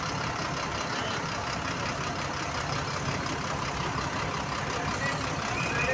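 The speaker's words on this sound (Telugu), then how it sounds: "ఆడ వస్తున్న బస్సే మన ఎక్కబోయే బస్సు" A bus engine idles and rumbles steadily near an airport in Dubai, a continuous low drone with broadband road noise, fairly close and with no talk over it.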